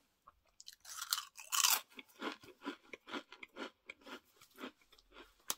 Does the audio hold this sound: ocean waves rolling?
no